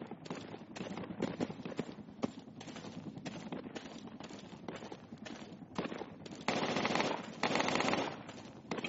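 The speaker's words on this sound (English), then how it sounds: "That was an AK." AK rifle fire in the military shooter game Squad crackles in rapid, repeated bursts throughout, moderately distant and steady, with louder sustained volleys near the end and no clear talk.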